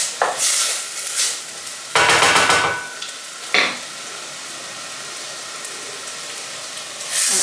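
Onions for onion soup stirred in a pot after the alcohol flambé burns off, loud bursts of sizzling and scraping in waves with quieter simmering hiss between, close and with no voices.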